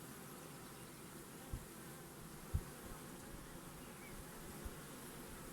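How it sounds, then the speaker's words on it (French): Honeybees buzzing in front of a small beehive, a steady dense hum from several bees nearby, with a few faint knocks and no speech. "je suis devant une ruchette devant laquelle il y a quelques abeilles"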